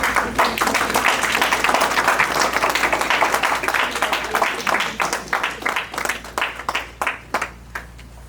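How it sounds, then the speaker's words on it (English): A college graduation audience gives a loud round of applause for the graduates' families, dense clapping that holds steady and then thins into scattered claps before fading out. "give them a great round of applause"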